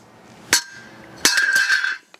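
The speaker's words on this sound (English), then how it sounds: "you take your rubber hammer or whatever you got" A rubber mallet taps a bracket of a Husky heavy-duty five-shelf steel storage unit into place, giving one sharp metallic clink and then a second ringing strike that rattles briefly, close and alone.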